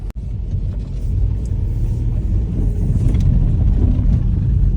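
A deep, steady car engine rumble heard from inside or close to the vehicle, continuous and loud after a brief click at the start.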